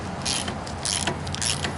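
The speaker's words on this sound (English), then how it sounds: "take a 10mm socket and then rotate the stud" A 10mm socket turns a tie rod stud during a leveling kit install on a 2014-or-later Chevy Silverado or GMC Sierra, giving short metallic ratcheting clicks in a few quick bursts, close and moderately loud.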